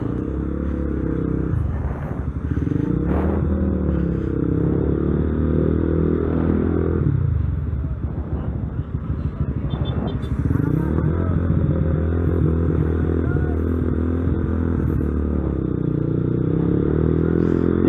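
A modified Honda CB150R motorcycle in a road-race style build rides steadily with a loud, continuous engine drone, the pitch rising and falling through several revs and gear changes, with wind and clatter throughout.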